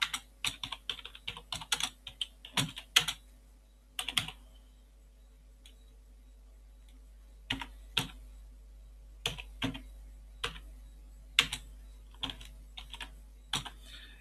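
Computer keyboard keys click in quick bursts while a git commit is typed, close and crisp, with short pauses between the runs of keystrokes and no talking over them.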